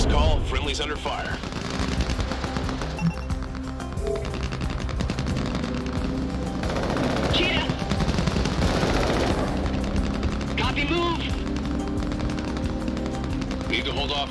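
Sustained gunfire and machine-gun bursts in the video game Crossfire Legion, loud and continuous throughout, with a game voice talking over the battle noise.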